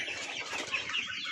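Young chicks about two months and three weeks old, kept in cages, cheeping and chattering in a dense steady chorus close by, with no talk over them.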